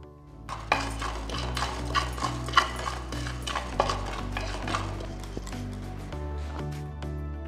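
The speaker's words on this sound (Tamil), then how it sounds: "தனியா பொன்னிறமாக வறுக்கணும் வெள்ளை உளுந்து பெருங்காயத்தூள்" Coriander seeds, white urad dal and asafoetida powder are dry-roasted in a pan, the spoon scraping and clinking against the metal in a steady, repeated stirring rhythm close by.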